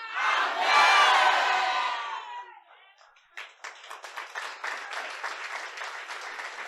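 A church congregation at a Haitian worship service bursts into loud cheering and shouting, then breaks into scattered, rhythmic clapping that continues steadily after the roar fades.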